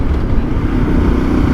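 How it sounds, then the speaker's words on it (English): Voge DS800X parallel-twin motorcycle with a 270-degree crank, a loud, close, continuous throaty engine drone under way with a rough, uneven pulsing texture and no pauses. "you can tell it's a parallel twin. It's a 270-degree crank"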